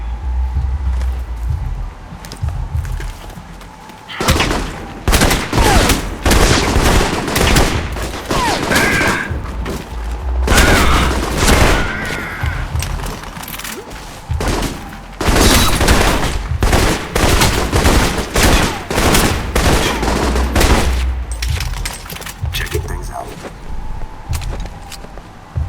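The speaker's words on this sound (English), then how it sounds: "Covering fire" Sustained covering gunfire in the video game Protocol Alpha, with repeated bursts of rapid automatic shots and loud booming volleys coming in waves across the whole stretch, with brief quieter gaps between them.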